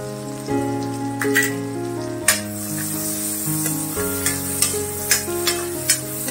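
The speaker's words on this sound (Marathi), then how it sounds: "आता कांदा घालूया।" Finely chopped onion, about a medium bowlful, sizzling in a pan over a lower-than-medium flame for red sauce pasta, with steady frying hiss, a sharp clatter near the start and scattered stirring clinks, all beneath background music.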